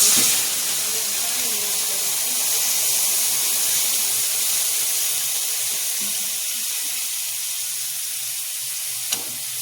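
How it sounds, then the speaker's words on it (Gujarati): A continuous hissing rush of water poured into a hot pan of roasted vermicelli for sweet sevaiyan, steady and close, with a faint clink near the end. "હવે તેમાં આપણે પાણી એડ કરીશું।"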